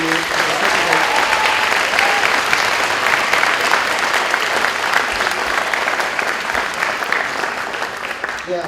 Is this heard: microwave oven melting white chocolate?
no